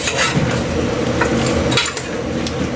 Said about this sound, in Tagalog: magkalasa na yung pork natin kay habang ginigisa natin, magkakalasa na siya.